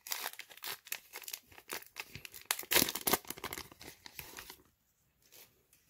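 A Topps baseball card pack wrapper is torn open close by with loud crinkling and ripping foil bursts that run for several seconds, then go quiet.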